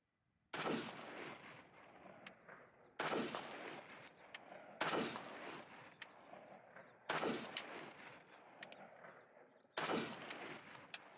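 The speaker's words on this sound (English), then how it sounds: "I wasted no time and had the rifle zeroed in 15 rounds." Five loud rifle shots ring out at an outdoor mountain range while a rifle is zeroed, spaced a few seconds apart, each a sharp crack followed by a long rolling echo that fades slowly.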